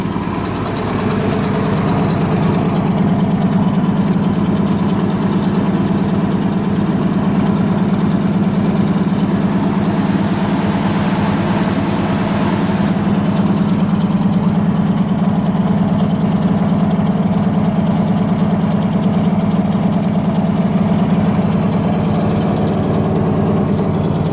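A 1978 Chevrolet K20 truck with cheap headers and old turbo mufflers idles steadily with a deep, throaty rumble and slight rasp, loud and close, holding an even drone throughout.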